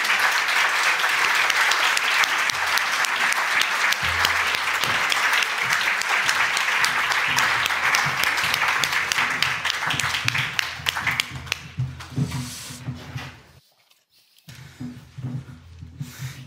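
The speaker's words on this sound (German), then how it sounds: "Begrüßen Sie alle fünf mit einem großen Applaus." A seated audience at a panel discussion gives loud, dense applause to welcome five guests. It holds steady for about ten seconds, then thins out and dies away, with a few voices and room sounds afterward.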